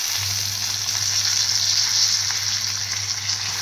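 Curry leaves frying in hot oil for an omelette, giving a steady, close sizzle that holds without pause and has no voices over it.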